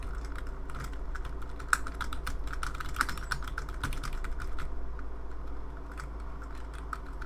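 Rapid, close computer keyboard typing with irregular key clicks and occasional heavier spacebar taps runs continuously over a low steady hum.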